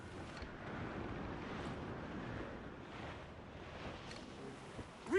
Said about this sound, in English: Storm there, Captain! Looks bad!